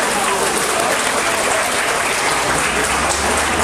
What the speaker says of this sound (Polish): należą się wielkie brawa dla defensywy Wolverines